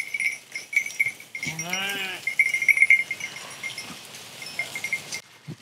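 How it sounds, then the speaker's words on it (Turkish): A herd of goats in Köseler village, Bayramiç, gives out a single clear, wavering bleat midway, set against a quiet outdoor background with faint, high, bell-like tones. "40 baş keçimiz var"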